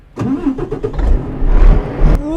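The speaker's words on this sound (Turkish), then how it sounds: "Şöyle kontağımızı açalım." A truck engine cranks and fires up in the video game Euro Truck Simulator 2, a short starter whir followed by a loud rumbling catch that settles into a low idle, heard alone without talking.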